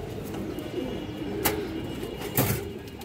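Pigeons at a seller's stall give soft, low, murmuring coos, close and steady, broken by a couple of brief sharp noises.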